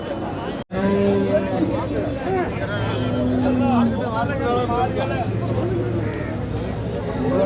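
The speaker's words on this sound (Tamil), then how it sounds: "இது பருகூர் மாடு இல்லை கர்நாடக மாடு" Karnataka breed cattle at a busy cattle market, with faint lowing and animal noise beneath steady crowd chatter and nearby people talking throughout.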